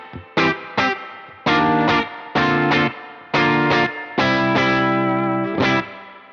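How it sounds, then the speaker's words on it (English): An electric guitar played through a spring reverb pedal, loud distorted chords struck in short rhythmic bursts, each ringing briefly before the next, with no voices. "For fast songs I'm using rather the spring than the blade reverb."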